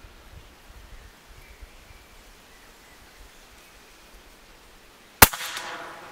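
A single sharp shot from an RTI Arms Prophet rifle cracks out near the end of a quiet outdoor stretch of faint wind and rustle, with a short ringing tail.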